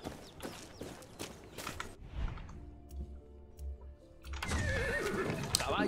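A horse whinnies loudly in Far Cry 6, a long shrill neigh in the middle of the clip, preceded and followed by hoof clatter and game noise.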